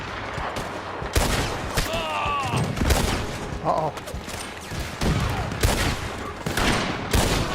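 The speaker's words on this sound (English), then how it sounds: "I hear a cannon." Cannon and gunfire boom repeatedly in a video game battle, sharp loud blasts arriving every second or so amid mechanical clatter, with a player's voice heard briefly.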